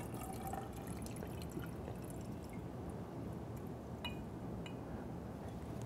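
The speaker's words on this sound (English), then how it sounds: "Now I put 200 mils of water" Around 200 ml of water poured into a glass laboratory flask, a steady, faint liquid trickle and splash with a few light glassy clinks.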